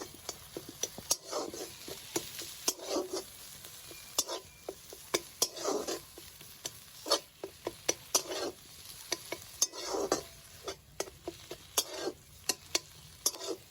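Sugar and chopped coriander are stirred into a cooking mixture with a spoon, giving a quiet series of irregular scraping taps and clicks against the pan over a faint sizzle, with no voices.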